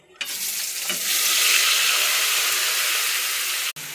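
Onion paste, ginger-garlic paste, green chilli, bay leaf and tomato paste hitting hot oil together, a loud steady sizzle that bursts in and holds, ending with a brief cutoff.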